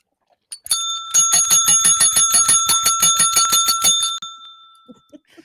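A bicycle bell rings rapidly and continuously for several seconds, bright and close, then stops abruptly.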